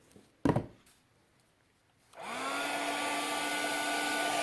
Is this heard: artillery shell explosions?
no